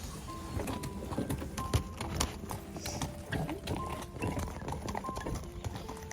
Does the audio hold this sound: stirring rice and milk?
no